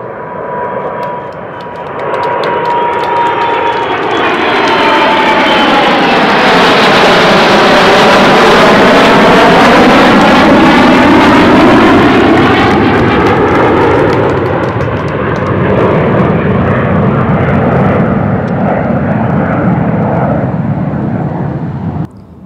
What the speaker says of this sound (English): If you look to the right, you will see a flyby.